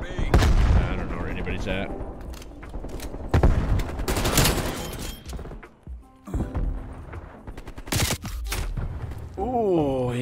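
Dense gunfire in the video game Black Ops Cold War, with repeated loud bursts and shots through most of the stretch, mixed with game effects and someone briefly speaking.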